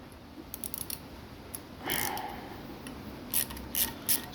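Sharp clicks of a socket set ratchet loosening screws on an Onga LTP750 pool pump, a few scattered bursts up close with quiet gaps between them.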